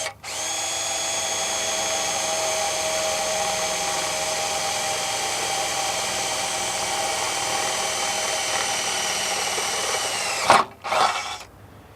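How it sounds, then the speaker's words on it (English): A power drill with a 3/8 inch bit whines steadily at high speed for about ten seconds while drilling a hole to mount a chain shade, then winds down with a couple of short bursts at the end. "With your drill and your 3/8 drill bit,"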